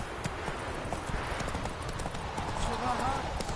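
Hooves clip-clop steadily as Roach the horse trots in The Witcher 3 video game, a brisk rhythmic patter with voices talking over it.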